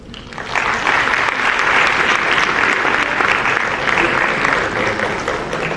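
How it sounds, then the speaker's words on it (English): Sustained applause from an audience at a Sierra Leone peace gathering, a dense steady wash of many hands clapping that swells in after a brief start and holds loud throughout. "A big round of applause again from representative of the SFP"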